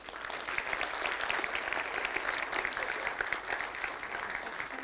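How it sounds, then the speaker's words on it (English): Audience at the code::dive 2022 conference applauding after a talk, a dense, steady wash of clapping that holds at an even level for the full stretch with no voices standing out. "Big applause for Borislav Stanimirov for his first speech today"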